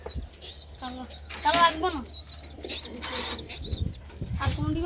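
Pigeons cooing and fluttering close by in a pigeon loft, with people talking over them and shuffling noise throughout.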